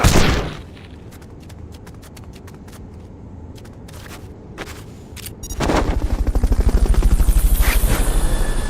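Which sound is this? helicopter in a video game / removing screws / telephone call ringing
helicopter in a video game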